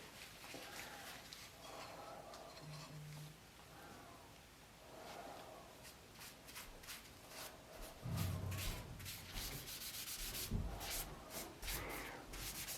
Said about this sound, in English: I'm just going to kind of wipe it off here